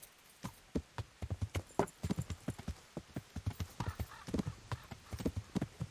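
Horse hooves clip-clop in a quick, uneven trot in the video game Kingdom Come: Deliverance, crisp hollow knocks close by with no talking over them.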